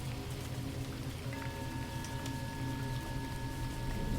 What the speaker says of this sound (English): The rain continues, steady,